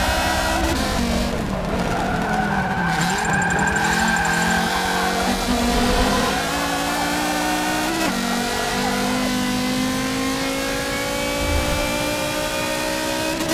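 Audi race car in Forza Motorsport 7 driving hard, with a continuous loud engine drone rising and falling in pitch and a stretch of squealing tire skid early on, no voices.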